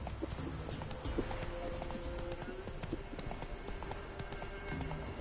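Roach the horse galloping in The Witcher 3, with a rapid, steady clip-clop of hooves and occasional snorts as a voice talks over the hoofbeats throughout.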